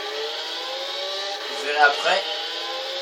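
A Lamborghini Gallardo in Gran Turismo 6 gives a steady, buzzing engine drone with a brief rise partway through as it accelerates, and someone speaks briefly over it.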